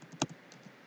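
A single keystroke on a computer keyboard, typed into a DOS program running in a VMware virtual machine: one short, close click with faint softer taps around it, alone without speech.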